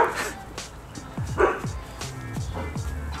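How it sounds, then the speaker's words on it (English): A dog barks and yips repeatedly at close range, a quick irregular run of sharp barks with some whining in between. "here we go with the barking, of course"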